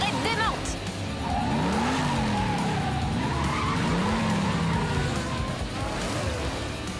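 Hot Wheels cartoon race cars skid with long sweeping tire squeals over a constant roaring engine bed, several screeches overlapping as the cars slide through a turn, loud and close throughout.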